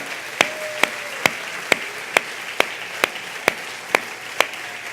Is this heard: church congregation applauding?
yes